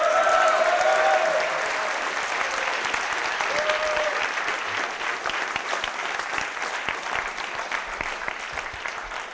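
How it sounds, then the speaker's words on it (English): Crowd at a speaking event gives a round of clapping, starting full and gradually thinning and softening over several seconds as hands drop out. "can we give it like a little round of applause for Jason for putting this together?"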